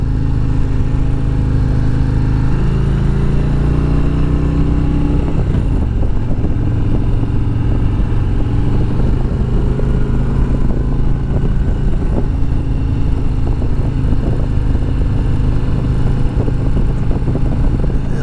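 A stock 2020 Harley-Davidson motorcycle exhaust rumbles loud and steady while riding, its pitch sliding as the revs shift and a gear change near the middle, with wind roar blended in throughout.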